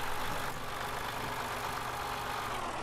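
A Belarus tractor engine idles in Farming Simulator 15, a low, steady rumble that runs evenly throughout at a moderate, fairly quiet level with no talk over it.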